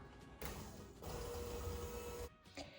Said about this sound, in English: So use your hand mixer or your stand mixer if you have one.